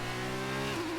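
A Formula 2 car engine hums loudly at high revs in F1 2019, then dips in pitch near the end as a gear shifts, a brief continuous close-up drone.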